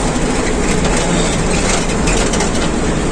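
A moving passenger train gives a loud, steady rumble and rattle throughout, with no voices heard.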